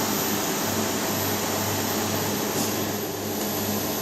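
A Stratasys-style fused deposition modeling 3D printer building an ABS thermoplastic part hums steadily, a constant mechanical drone with a faint low tone, close and even throughout.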